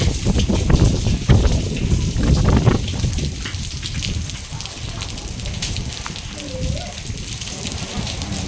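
A heavy rainstorm pours down in a continuous, dense roar of hissing and splattering, loud and close, with occasional heavier thuds of water on surfaces.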